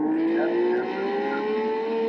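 A car engine revs hard and loud like a race car, a steady high whine slowly climbing in pitch, close and continuous with no talk.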